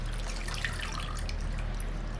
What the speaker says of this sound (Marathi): आता मीठ टाकून धुवून घेते